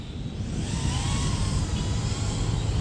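A steady, high-pitched motor whine with broadband whooshing from a small Mobula 7 FPV drone's propellers spinning up on takeoff in windy conditions, continuous and fairly close throughout.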